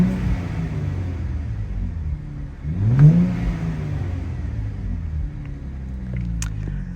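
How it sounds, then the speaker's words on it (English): A 2023 Nissan Z's engine idles in neutral, then one quick rev swells and falls away before settling back to a low, steady rumble. "We'll put it in neutral and we'll give it a few revs."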